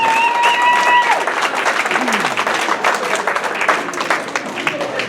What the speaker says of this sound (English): A big final round of applause for all our volunteers and sponsors